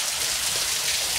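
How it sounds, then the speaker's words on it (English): Heavy rain pours down outside an open door, a dense, steady hiss of water drumming on surfaces. It is close and continuous, with no voices. "It is pouring down like crazy."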